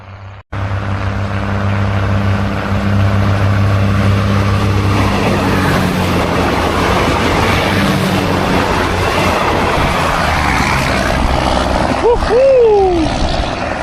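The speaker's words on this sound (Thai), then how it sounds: "เร่งเครื่องมาแล้วครับเร่งเครื่องมาแล้วเสียงแบบนี้เป็นรถดีเซลรางแน่ๆครับ" A local diesel railcar on the southern Isan line in Thailand roars past at close range, its engine loud and steady as it accelerates, with rail clatter and a squeal near the end.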